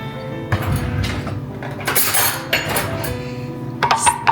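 A spoon stirring freshly made spicy juice in a glass, close clinks and scraping knocks against the sides in short bursts, with no talking.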